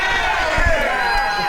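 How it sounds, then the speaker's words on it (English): A wrestling arena crowd roars and chants in rhythm along with mounted corner punches during a PWA match, a dense, steady wall of noise with a commentator talking over it. "crowd counting along"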